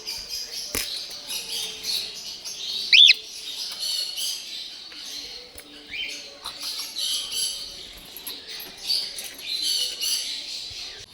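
A crowd of pet African lovebirds and conures chatters and squawks continuously in a noisy aviary, with dense overlapping shrill calls and one louder close squawk standing out.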